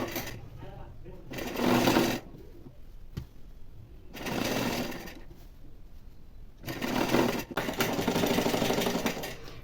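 A sewing machine stitches a puff sleeve onto a blouse in three loud bursts of steady whirring, separated by pauses. Someone speaks quietly in the gaps.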